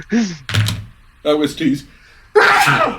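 A single sharp sneeze bursts out between stretches of close talking voices, loud and brief.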